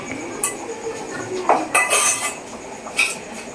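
A spoon clinks and scrapes against a metal pot in a few irregular strokes as roasted cumin powder is stirred in, close and fairly loud, with quieter rustling between.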